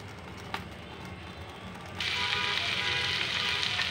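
Spice paste of chilli powder, chopped onion, ginger-garlic paste and green chillies fries in a pan with a steady hiss that suddenly swells into a loud, bright, continuous sizzle halfway through, with no talking.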